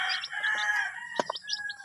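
Many small three-day-old chicks, native and Rhode Island cross, peep in quick, high-pitched bursts, chirping rapidly and close by with no talking.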